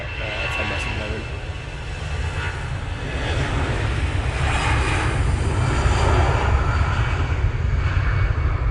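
An Etihad jet moving at Manchester Airport gives a continuous low engine rumble and broad roar that grows louder midway and stays strong, with someone speaking over it.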